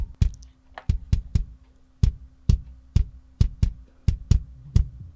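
A drum recording cleaned up with Drumatom bleed-reduction software leaves isolated, punchy hits with a low boomy body. About fourteen close, loud strikes fall in an uneven groove, separated by near-silent gaps.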